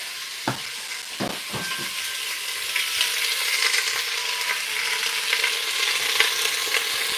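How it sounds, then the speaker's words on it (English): Pieces of lamb hit a hot frying pan and sizzle steadily, with a few sharp clacks of utensils against the pan at the start before a continuous hissing fry. "Sizzle, sizzle."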